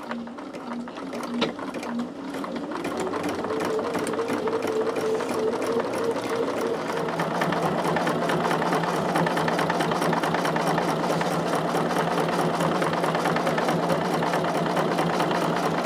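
A sewing machine stitches a quarter-inch seam on a stabilized snap bag project, running in a long steady rapid hum that holds close and loud after a brief start.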